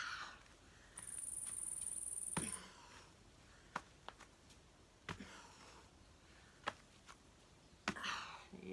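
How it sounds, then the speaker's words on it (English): Frogs calling outdoors give a brief, steady high trill early on, followed by scattered faint clicks and ticks in a quiet setting, with no talking. "Yeah, nice froggies."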